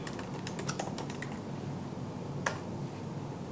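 Typing on a computer keyboard at a desk, a quick run of crisp keystrokes followed by a single later tap, close up over a steady background hiss.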